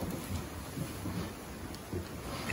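Heavy rain pouring onto a barn roof, a dense steady hiss and drumming at moderate level, with faint low rumbles swelling in and out and no talking.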